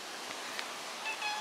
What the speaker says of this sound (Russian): Это соседский кот, но он всегда голодный